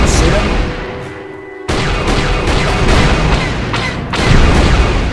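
Repeated blaster fire and booming impacts while shooting at incoming fighters in the Star Wars: Knights of the Old Republic turret minigame, a loud continuous barrage with a brief lull midway.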